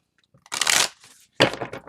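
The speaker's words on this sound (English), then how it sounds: "just give me a moment here to shuffle them oddly" Two quick, close bursts of large glossy tarot cards being shuffled, crisp riffling and slapping with a short pause between them.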